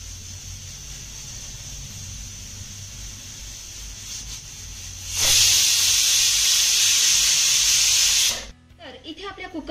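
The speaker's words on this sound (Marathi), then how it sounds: "कुकरच्या 3 शिट्ट्या झाल्यानंतर गॅस बंद करूया" A pressure cooker on a gas stove vents steam: low kitchen background, then a loud continuous hiss bursts in and holds for about three seconds before cutting off abruptly, followed by faint clatter.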